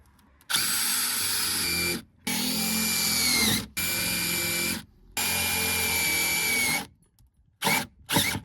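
A power drill drives 3/4 inch self-tapping screws while a tire sprayer is built: four long, loud whining bursts separated by short pauses, then a couple of brief spurts at the end.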